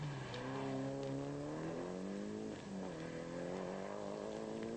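Toyota Celica rally car at the 1991 ADAC Rallye Deutschland, engine revving and shifting through gears, pitch climbing and dropping in repeated sweeps, loud and close with a continuous roar.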